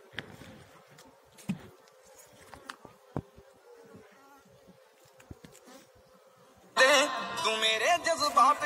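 Honeybees buzz close by in a steady drone with faint scattered sounds, then a much louder, denser burst of buzzing swells near the end.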